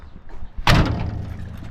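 The cab door of a 1956 GMC 630 deluxe five-window fire truck is shut once with a solid, close thud, followed by a short fading rattle.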